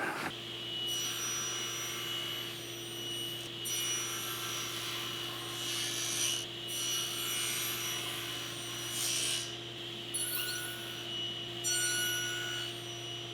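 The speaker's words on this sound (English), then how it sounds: "So this little bit of material that's left over, I need to remove with a chisel." A hand chisel pares leftover wood from a tenon shoulder on a bookcase joint, making quiet, repeated scraping strokes over a constant low workshop hum.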